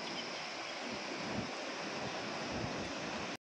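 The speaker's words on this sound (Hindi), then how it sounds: "आपको पानी का आवाज़ तो आता ही होगा," A river flows past a hotel in Pahalgam, heard as a continuous broad hiss of rushing water mixed with wind noise. It stays even and unbroken until it cuts off abruptly at the end.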